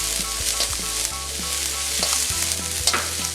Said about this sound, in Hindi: अब हम इसमें शिमला मिर्च डालेंगे, 1 शिमला मिर्च बारीक कटी हुई। अब इसको 1 मिनट और सेकेंगे।